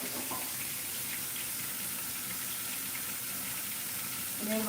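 Water is poured into a bowl in a home kitchen while cooking dinner, a soft continuous splashing trickle heard close and fairly quiet throughout.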